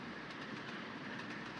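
An LNER Gresley P2 steam locomotive, William Wallace, running at speed in the Trainz railway simulator, giving a steady rolling rumble with faint rhythmic clatter of wheels over rail joints, continuous and even without voices.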